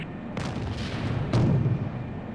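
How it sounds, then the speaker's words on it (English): An aircraft cannon fires in the Vietnam-era jet combat game Strike Fighters 2: Vietnam, two loud, booming bursts about a second apart over a steady engine rumble. "Firing gun."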